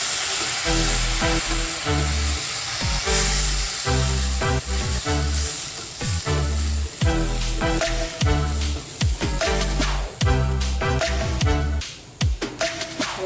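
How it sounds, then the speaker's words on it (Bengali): Water added bit by bit to a hot pan for rava upma, a loud continuous hissing sizzle broken by rhythmic scraping and clatter from the pan, no voices. "আস্তে আস্তে একটু একটু করে জল দিতে হবে।"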